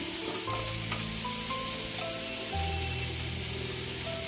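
Mustard seeds sizzling in hot oil in a pan while a bitter gourd curry is cooked, a dense, continuous close-up crackle with a faint tonal hum underneath.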